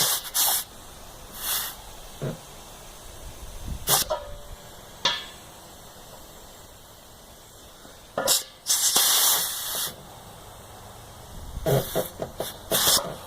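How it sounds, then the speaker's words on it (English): Air compressor left running while servicing tractor airbag suspension, giving a steady high whine with repeated loud bursts of hissing air released in short blasts, some close and harsh. "I forgot to shut off the air compressor."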